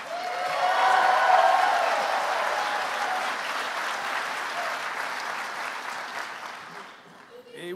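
Sustained applause from a large audience at the 2023 PEN America Literary Awards ceremony, a dense wash of clapping that swells early and gradually fades toward the end.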